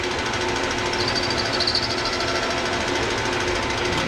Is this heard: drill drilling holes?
yes